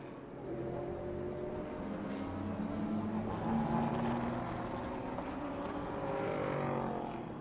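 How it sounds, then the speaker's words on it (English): A Chevrolet-powered race car in GT World Challenge Asia qualifying at Okayama circuit, its engine roaring steadily at moderate distance with shifting, rising pitch as it passes, picked up by trackside camera microphones. "just listening to the sound of that Chevrolet motor, pumping it out, picking it up through the microphones on the cameras around the circuit"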